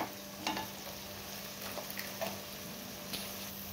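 Chili powder and ground spices being stirred in a pan for Khandeshi dal batti, a quiet scraping and soft sizzle with a few sharper taps of the spoon against the pan, no voices.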